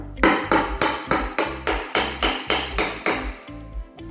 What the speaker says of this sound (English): just tap the edge of the crowbar with a hammer to get it under there